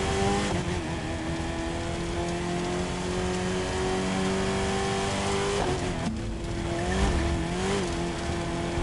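Racing engines of a Camaro ZL1 and a Ford Mustang in The Crew 2 game roar continuously, with steady revving pitch and shifts, loud and close throughout.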